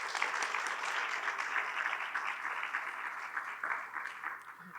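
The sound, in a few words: audience applause for forum candidates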